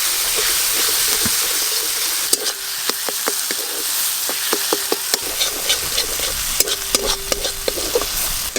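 Cumin, coriander, chilli and turmeric powders fry in a little oil with a steady close sizzle, while a utensil scrapes and taps the pan in irregular clinks throughout.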